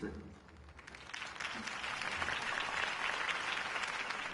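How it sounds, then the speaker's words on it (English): Applause from a crowd in the video game Batman: The Telltale Series swells up after a faint voice and holds as a steady, even wash of clapping. "could have heard that applause"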